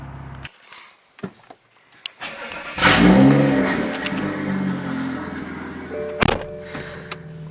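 BMW M235i, recently troubled by bad coils, coil pack and spark plugs, heard as a few clunks before the engine starts with a loud revving burst, then settles into a strong, steady idle with a sharp thunk near the end.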